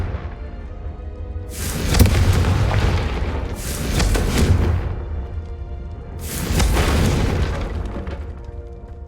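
Three booming explosions from the Confringo spell in Hogwarts Legacy burst one after another, each with a whooshing rush and deep thump, loud and close with no talk.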